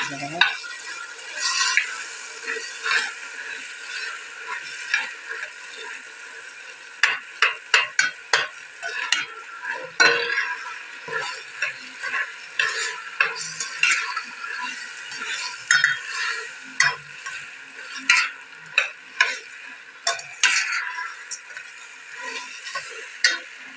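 Steady frying sizzle with scraping and clattering stirring strokes as washed lentils are sautéed in a large pot, irregular taps and scrapes repeating throughout, close and moderately loud.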